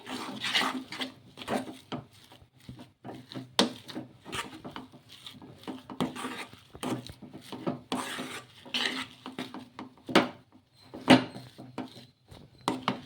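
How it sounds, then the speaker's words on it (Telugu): Rava vada dough being pressed and stirred in a pan gives repeated close scraping, knocking and rubbing strokes at an uneven rhythm, with occasional sharper clinks of the utensil against the metal. "ఇలా ప్రెస్ చేస్తూ కలుపు కలిపేసుకోవాలి మనకి ఇదంతా కూడా దగ్గరకు పడే వరకు మనం బాగా మగ్గించుకోవాలన్నమాట"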